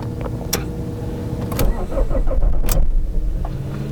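A Fiat Bravo 1.9 JTD diesel engine with one faulty glow plug cranks and catches, settling into a rough idle with a few sharp clicks along the way; no one speaks.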